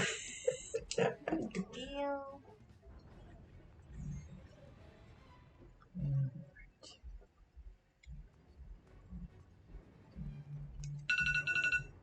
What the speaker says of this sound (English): I didn't know Groove sounded like a phone alarm